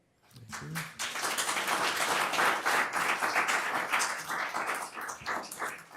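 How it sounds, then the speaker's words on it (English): An audience at a town planning board meeting breaks into sustained applause, a dense burst of many hands clapping that starts suddenly and holds steady for several seconds before thinning slightly. "It's interesting that we let the applause go too."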